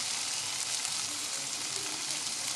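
Chicken and green beans fry in a cooking pot with a steady, even sizzle that crackles on without pause, close up and with no talking.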